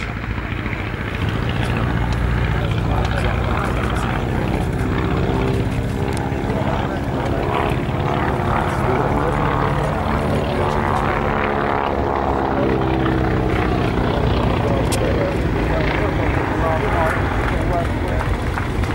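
A Boeing P-26 Peashooter with a radial engine flies at an air show, its propeller drone loud and continuous throughout. Someone talks over the steady engine noise.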